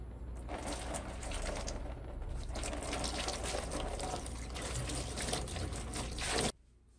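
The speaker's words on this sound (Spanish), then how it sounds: "lavamos con agua templada" Warm water pours and splashes steadily while feet are washed, a continuous close gushing that runs for several seconds and then stops abruptly.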